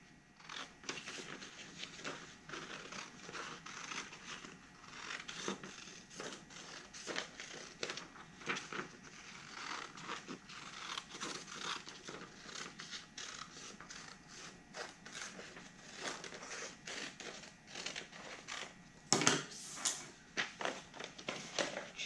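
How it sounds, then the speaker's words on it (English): Scissors snip steadily through paper to cut out a homemade hat, with quick crisp cuts and rustling paper continuing close up throughout and a sharper burst of handling near the end. "And now I'm going to cut it out."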